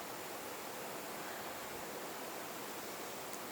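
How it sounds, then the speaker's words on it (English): A waterfall rushes steadily somewhere out in nature, a continuous broadband hiss and roar with no breaks or voices, holding an even level throughout. "it's so calming here with the waterfall"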